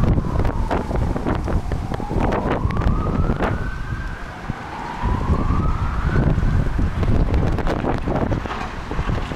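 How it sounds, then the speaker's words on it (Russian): Gusty wind rumbling against the microphone on a street in Turkey, with a siren wailing up and down in the distance behind it. "Блин, все равно ветер."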